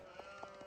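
Sheep bleating in the real-time strategy game Age of Empires 4, a few short, soft bleats spaced across a brief moment over steady quiet game ambience.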